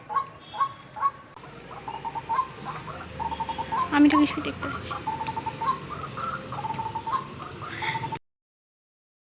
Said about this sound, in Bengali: খুব সুন্দর একটা পাখি ডাকছে শোনা যাচ্ছে